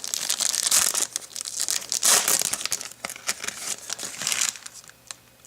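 A Magic: The Gathering Ultimate Masters booster pack wrapper torn open and crinkled up close, in bursts of sharp crackling foil rustle with short pauses between, no voices.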